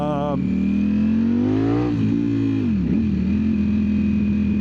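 A 2025 Ducati Streetfighter V4S engine blips sharply at close range, its pitch climbing and then dropping back to a steady idle, with someone speaking over it.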